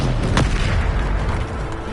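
A Bombarda blast spell from the Hogwarts Legacy video game bursts with a loud, dense boom and a sharp crack near the start, followed by sustained rumbling explosion noise throughout the short clip.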